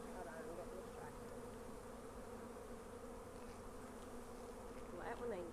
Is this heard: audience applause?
no